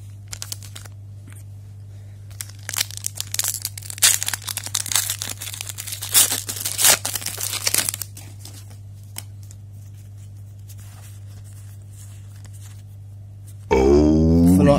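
Pokémon Vivid Voltage booster packs are torn open at close range, giving bursts of crinkly foil tearing and rustling over a low steady hum, then quiet, and finally a louder warbling tone near the end.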